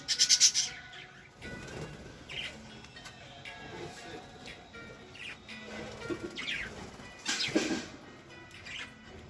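Pet birds eating cooked rice give faint, scattered chirps and short wing flutters, with a louder burst of chirping at the start and near the end against a quiet room.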